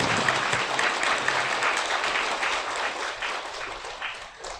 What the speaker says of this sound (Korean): 황교안 전 총리에게 다시 한번 뜨거운 박수 부탁드립니다.